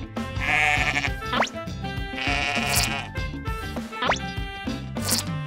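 Cartoon sheep bleat in repeated wavering calls over light background music, with small plopping and dripping effects in between.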